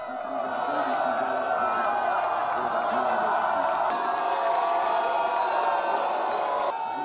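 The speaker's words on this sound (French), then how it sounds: "Au passage des différentes troupes, la foule est en délire." A dense crowd cheers wildly as troops parade past, a sustained roar of voices and whoops, loud and continuous from start to finish, with speech mixed into the din.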